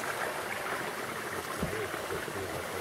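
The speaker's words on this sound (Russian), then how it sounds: "Вот место, куда вытекает вода." Water pours out of an outlet into an outdoor bathing pool, making a steady, close rushing and gurgling wash that holds at an even level throughout.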